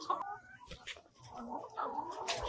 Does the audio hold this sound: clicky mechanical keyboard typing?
no